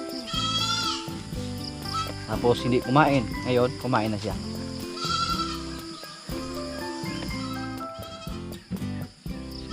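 Goat bleating on a farm, quavering calls rising over steady Tagalog talk, with music playing underneath throughout.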